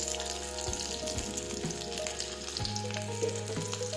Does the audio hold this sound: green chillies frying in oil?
yes